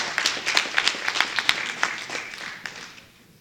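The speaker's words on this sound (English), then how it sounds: "Give him a round of applause, please." A town hall meeting audience claps in a lively burst of applause that gradually thins out and fades toward silence.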